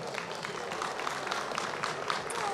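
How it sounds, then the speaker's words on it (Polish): A festival crowd at an outdoor Lemko folk gathering applauds a performer: steady, dense clapping throughout, moderately loud and somewhat distant, with faint crowd murmur beneath. "Wielkie brawa dla niego."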